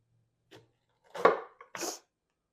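A knife cuts steak into quarter-inch slices on a board, giving a few short, soft strokes and taps, the loudest two near the end, with quiet gaps between them.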